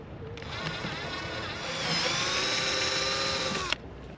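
A drill runs steadily for about three seconds, cleaning out unused screw holes on a boat during a lake cruise, with a continuous high whine that rises slightly in pitch before cutting off abruptly.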